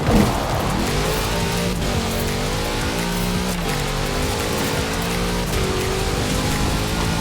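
A Chevrolet car engine drones steadily while driving through rain in the video game Forza Horizon 4, with shifting revs under a constant wash of rain noise.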